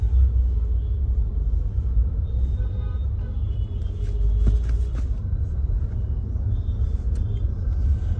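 Low, steady engine rumble from inside a car creeping through slow, congested Delhi traffic, with faint road and vehicle noise around it and a couple of brief clicks.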